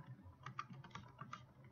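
A network name being typed on a computer keyboard for a Hamachi network: a quick, quiet run of close key clicks in an uneven rhythm, with no speech over it.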